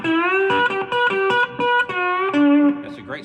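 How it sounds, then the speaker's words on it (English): Slide guitar played through a Roland MicroCube amplifier on its Brit combo setting with reverb turned fully up, a series of sustained, gliding notes in short phrases, close, clear and bright, with no talking. "That's a great slide tone right there."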